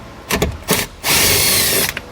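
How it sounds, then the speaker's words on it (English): A power drill fitted with a 10mm socket removes bolts from the paneling on a 2022 Chevrolet truck. It whirs in two short bursts, then runs in one loud, sustained spin close by. "we're going to grab a 10mm socket and remove 2 bolts that holds this paneling on"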